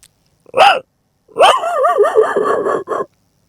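A mimicry artist vocally imitates a dog answering from up on a hill: one short yelp, then a longer warbling bark-howl and a final clipped yip, close to the microphone.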